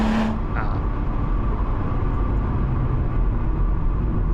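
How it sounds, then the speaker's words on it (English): A car engine with a VR6-like warble drones steadily at moderate volume, heard from outside at the rear of the car, with a brief higher whoosh at the start. "It's weird because it almost has a little VR6 noise to it."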